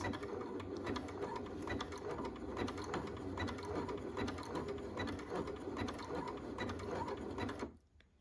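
A sewing machine stitches a button in place with a steady, fast mechanical whirr and clatter that runs continuously and close up before stopping abruptly near the end.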